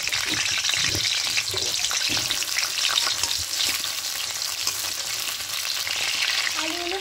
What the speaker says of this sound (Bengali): প্রথমে আলুগুলোকে একটু হালকা লাল লাল করে ভেজে নেব